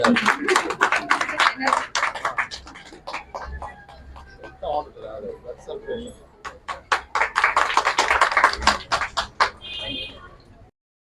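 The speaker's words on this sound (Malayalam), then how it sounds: "കയ്യടി നിർത്തണ്ട കൈ അടിച്ചോളൂ" Applause from an audience at a health fair in Veeranakavu, scattered claps swelling and fading across the clip, with a voice speaking over much of it.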